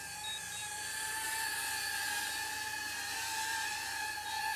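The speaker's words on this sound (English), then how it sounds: "Another pretty amazing flight from the Avata 360." A DJI Avata 360 drone in flight gives off a steady, high-pitched propeller whine with a constant buzzing hum, close and unbroken throughout.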